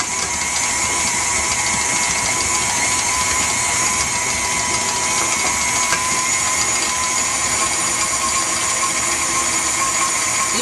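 An electric mixer runs at medium speed creaming hardened butter and sugar, a loud, steady whirring buzz with a gritty mechanical rattle that continues unbroken throughout, close up and with no talking.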